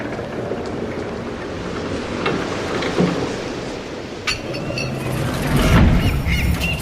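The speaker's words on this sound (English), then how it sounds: "I have to find a way to get rid of these seagulls for a longer time." Seagulls squawk in the video game Broken Pieces, a few sharp calls over steady windy, watery ambience with waves near the shore.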